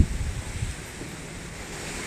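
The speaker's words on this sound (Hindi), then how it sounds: "बहुत तेज से हवा चल रहा है।" Strong wind gusting outdoors during a storm near a farm field, a steady broadband roar with low rumbling buffets against the microphone, heaviest in the opening moments.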